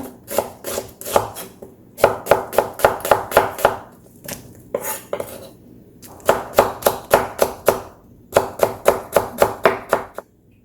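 A knife thinly slices red onion on a cutting board in quick rhythmic runs of crisp chops, with short pauses between the runs. The cuts sound close and clear, and no voice is heard.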